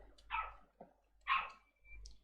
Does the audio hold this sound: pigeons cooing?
no